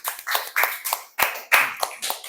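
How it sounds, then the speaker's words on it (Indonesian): A classroom applauds group 3: a short burst of brisk, close hand clapping from a small group, with claps overlapping in a quick, uneven rhythm. "Kita kasih aplaus teman-teman untuk kelompok 3."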